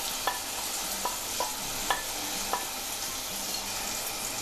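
Chopped tomato, cinnamon, black pepper, cumin, cloves and bay leaf sizzle in hot oil for an egg curry tempering, with a steady frying hiss and five or six sharp scraping stirs of a spoon at regular intervals.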